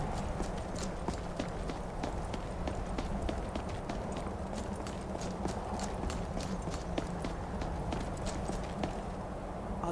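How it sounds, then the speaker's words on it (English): Horse hooves clip-clop steadily in the video game Skyrim, a quiet, continuous run of hoofbeats over a dense ambient background that lasts throughout. "You stay here, horsey."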